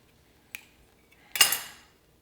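A knife taps, then scrapes and clinks against a plate or board while cutting a section out of an avocado, two short close sounds in an otherwise quiet kitchen.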